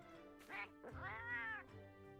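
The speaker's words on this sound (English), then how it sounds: "That sounds like a very angry kitty." A talking cat character in the game Final Fantasy XIV lets out an angry, whiny meow, a few short rising and falling cries that are fairly quiet and heard alone.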